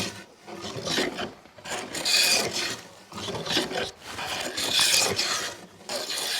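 Hand plane taking rough shavings off a long wooden board, a series of rasping strokes about once every second, each a loud scraping swish that swells and fades, close and without speech.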